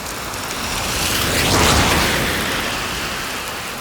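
Steady hiss of rain on Taveuni Island, Fiji, swelling slightly in the middle and easing again, with no voices.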